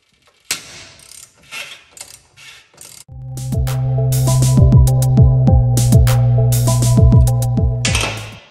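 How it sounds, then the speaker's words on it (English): Socket and wrench working the end-link nut on a sway bar of an 88-98 Chevy 1500 pickup: a few loose metallic clinks, then a sustained close, loud mechanical ratcheting whir with rapid repeated clicks for about five seconds. "With our socket on the bottom and a wrench holding the bolt on top,"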